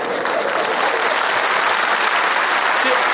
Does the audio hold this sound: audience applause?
yes